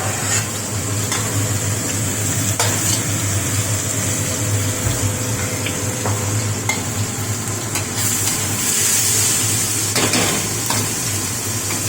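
Onions frying in a pan for a tofu and oyster frittata: steady, close sizzling with scraping stirring strokes and occasional clicks throughout.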